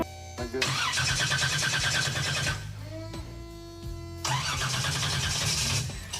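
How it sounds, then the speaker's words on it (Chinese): A restored 1970 Chevrolet SS muscle car engine cranks in two loud bursts of starter whine and sputter, with a quieter pause between them, and fails to catch. "这时他们就要开始第一次的启动尝试了。"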